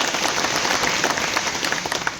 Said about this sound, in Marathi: त्या दोघांच्यासाठी पण जोरदार टाळ्या वाजवाव्या.